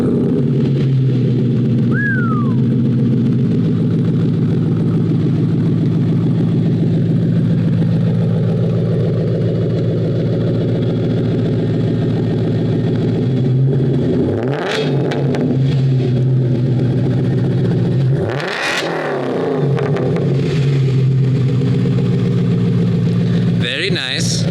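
An Audi B7 S4 in Suzuka Grey revs twice from idle, climbing to around 3,000 and then 5,000 RPM, each rise loud and close before dropping back to a steady mid-pitched idle.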